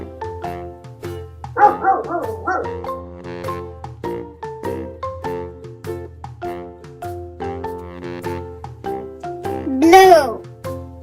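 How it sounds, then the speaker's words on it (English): A dog barks in short cartoonish yelps between stretches of a voice and music, loud and close, with a louder bark burst near the end. "Dog."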